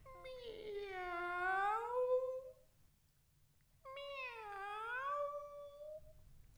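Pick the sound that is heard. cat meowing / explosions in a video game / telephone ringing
cat meowing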